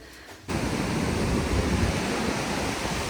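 Broadband sea surf washes steadily near a seaside café, a loud, continuous roar that swells in after a brief quieter start and carries on without talk.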